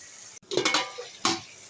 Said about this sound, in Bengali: পটলটাকে আমি একটু কষিয়ে নেবো মশলার সঙ্গে